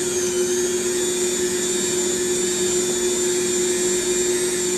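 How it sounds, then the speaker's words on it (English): An electric stand mixer runs steadily while beating sugar cookie dough, a loud constant motor whine and hum with no pauses or voices. "put it in there and start mixing it like that"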